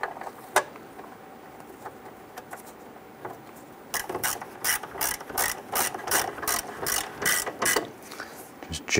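A ratchet snugs the expansion tank mount on a 1994-2004 Ford Mustang, first a few scattered clicks and then a quick run of close, rhythmic ratcheting clicks.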